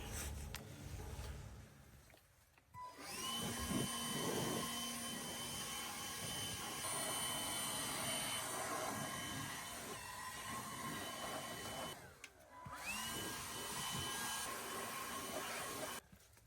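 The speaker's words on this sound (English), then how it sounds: "let's blow out the whole unit, clean it all out before we set it" Compressed air blasting through a gas HVAC package unit during an evaporator coil replacement: loud, harsh hissing bursts that run for several seconds, drop out briefly twice, then resume, close to the microphone.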